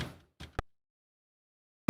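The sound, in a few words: F0 sub kick used as sidechain trigger in music production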